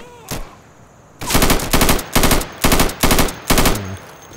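Automatic rifle fire in the tactical shooter game Insurgency, laying down suppressive fire: a single early shot, then six loud, evenly spaced bursts of rapid shots, close and dominant.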